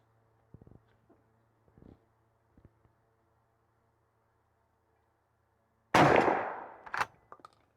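A 20 gauge shotgun with a Trulock 5-step turkey choke fires Longbeard XR lead number 5 shot: a single loud, close blast with a long decaying tail and a sharp follow-up crack, after a quiet stretch of faint knocks.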